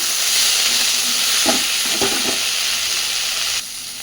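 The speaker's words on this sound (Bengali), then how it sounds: "ধনেপাতাটা দেওয়ার পরে মিনিট 2 নাড়াচাড়া করে ভেজে নিয়েছি" Mashed bean paste with coriander leaves frying in a pan while being stirred, a steady close sizzle with a few scraping stirs partway through, then the hiss drops to a quieter level near the end.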